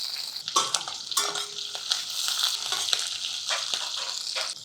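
Mustard seeds, garlic, curry leaves and chopped green chillies sizzle in hot oil for a brinjal and fenugreek curry, a steady close crackle broken by scraping stirs of a spoon in the pan.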